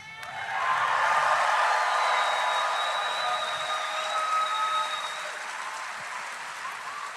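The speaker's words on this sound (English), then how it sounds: "Can we hear a round of applause for Luis?" Crowd applause at a Chicago protest rally, a broad, sustained wave of clapping with some cheering that swells after a moment, holds strongly, then eases slightly while continuing, heard from amid the outdoor gathering.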